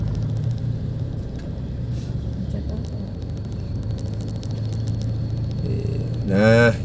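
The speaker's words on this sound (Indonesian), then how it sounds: "Ini cukup macet ini di perempatan ini." Dense road traffic at a congested urban intersection in Indonesia, a steady rumble of engines and tyres throughout, with a brief rising engine whine near the end and people talking over it.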